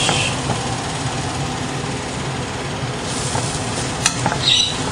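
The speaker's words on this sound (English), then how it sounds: "The pan is running low on oil, so I'll have to add a little bit here and a little bit. I'll saute that." A tortilla sautéing in oil in a pan for a beef enchilada casserole gives a dense, steady sizzle with a low rumbling undertone and a few brief scrapes near the end, heard close and without speech.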